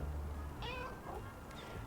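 A cat meows in the Little Kitty, Big City video game, one clear meow followed by a shorter second call over a low background hum.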